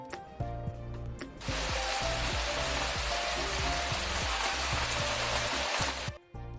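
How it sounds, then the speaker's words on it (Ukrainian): Autumn rain falls as a steady, dense hiss of droplets lasting several seconds before breaking off abruptly, with some tonal background sound beneath it. "В цю пору року часто йдуть дощі."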